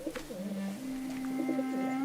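Pigeons coo in low, rolling, throaty calls near a mausoleum, one drawn-out coo overlapping softer murmurs, close and moderately loud, with no talk.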